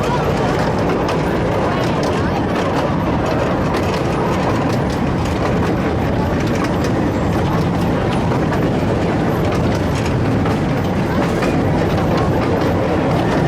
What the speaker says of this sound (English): let's have a nice look round on the railroad just here